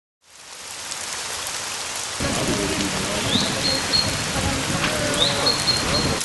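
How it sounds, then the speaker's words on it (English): Rain begins falling on an outdoor farmers market in Dejvice, Prague, a dense hiss that swells louder partway through. A few faint high tones and scattered thuds sit on top, with no clear talk. "it's beginning to rain"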